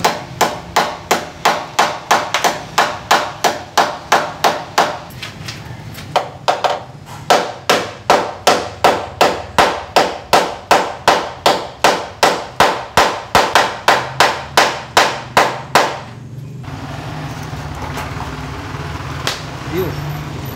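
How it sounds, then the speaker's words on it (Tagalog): Sharp metallic hammer blows strike in a fast, steady rhythm, dozens in a row, loud and close, straightening a bent metal part, then stop, leaving quiet background. "Tapos ito, pukpok lang konti para tumuwid."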